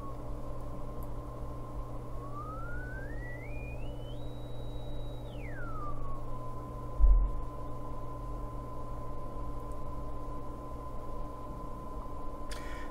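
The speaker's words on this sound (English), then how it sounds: "if I mess with the frequency here on the function generator" A steady test tone from a function generator played through a Class D power amplifier sweeps upward in small steps, holds a high pitch briefly, then glides back down to its starting tone over a low hum.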